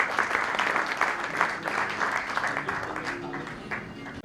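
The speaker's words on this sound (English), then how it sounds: "A big round of applause for Mr." Audience applause at a Rotary gathering in Chandigarh, a full room of clapping hands, dense and steady, with faint voices mixed in underneath.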